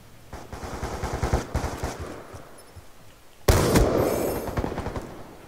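Rapid bursts of automatic gunfire from the Black Ops 2 video game, dense and close, with a louder, harsher volley erupting about halfway through and sustained to the end.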